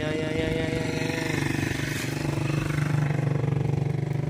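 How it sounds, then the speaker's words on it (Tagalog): A motorcycle engine runs steadily nearby on a Pangasinan roadside, a continuous buzzing drone that swells slightly toward the end, with no clear talk over it. "Oh, may nakamotor pa rito, kailyan."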